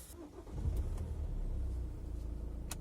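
A Hyundai Accent Blue 1.6 CRDi 136 hp diesel engine runs at a steady, fairly loud idle with a low continuous drone, heard alone.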